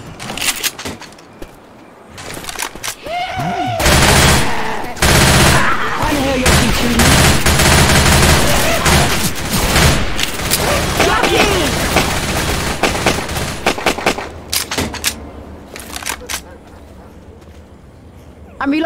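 Shotgun blasts in Left 4 Dead 2, loud and repeated in a dense volley with mechanical clatter between shots, filling most of the stretch before tapering off.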